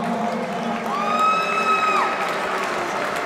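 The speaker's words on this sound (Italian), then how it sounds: "un bel applauso" Crowd at an Italian featherweight title boxing event cheers and applauds for the ring girl, a steady roar of clapping with one loud whoop rising and holding through the middle, nearby and continuous.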